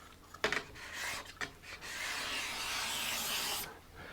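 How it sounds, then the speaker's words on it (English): A cabinet scraper shaving along a wooden guitar fretboard, with a few short scrapes at the start and then one long, steady close rasping stroke that stops abruptly. "but it could use some work with a cabinet scraper."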